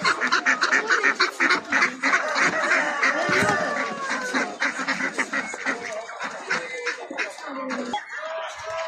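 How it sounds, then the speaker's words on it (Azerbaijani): Ducks quack loudly and in dense, overlapping bursts at a busy live-poultry market in Sabunchu, with people talking and haggling close by throughout. "Belə qəşəng ördəklərdir"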